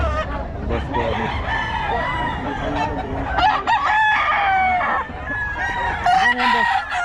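Four-year-old Sweater Kelso gamefowl rooster with a few crows and clucks close by, along with background chatter and other farmyard noise throughout.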